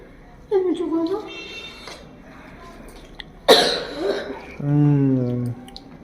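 A child coughs at a family meal of rice with boiled beans and new-potato curry, a few short hoarse bursts mixed with nearby adult talk and voiced sounds.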